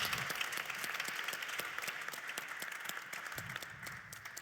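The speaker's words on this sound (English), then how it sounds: "once you're done, we are going to have some applause" Steady applause from a conference audience after an agreement signing at a health data forum, a continuous even patter of many hands at moderate distance, with no talk over it.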